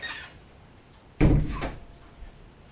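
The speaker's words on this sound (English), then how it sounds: "I'll just go shut the door, possibly." A single solid thud of a household door being pushed shut, fairly close and otherwise quiet apart from faint room hiss.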